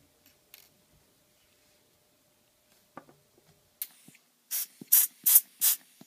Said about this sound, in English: Use a puffer to remove any debris from the assembly.